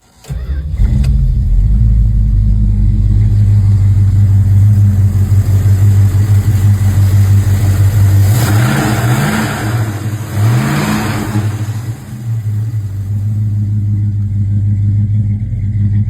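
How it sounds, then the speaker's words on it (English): A 1969 Plymouth Barracuda V8 rumbles loud and close, its engine revved in several throttle blips that rise and fall over a steady idle, with no talk. "1969 Plymouth Barracuda"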